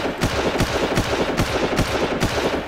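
Steady automatic fire from the player's gun in Far Cry, a rapid train of loud, close shots repeating at an even rhythm with no pause, a few stronger cracks standing out.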